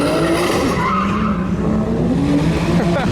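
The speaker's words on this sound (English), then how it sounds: "Oh, he's gonna drift." A car drifts with a long, loud tire squeal over engine roar, the skid sustained close by for several seconds.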